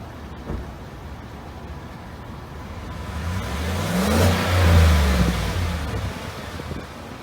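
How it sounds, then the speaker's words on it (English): A 2019 Chevy Tahoe LT's V8 engine revs up from a steady idle, swelling into a deep, rumbling peak before easing back down, heard close and alone. "It has a good, muscly American V8 sound to it."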